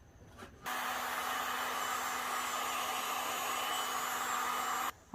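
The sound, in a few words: heat gun blowing on resin-coated wine glass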